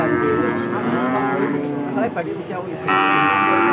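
Cattle moo loudly and close at a busy cattle market in Pati, a long drawn-out lowing call with more calls overlapping and steady crowd noise behind.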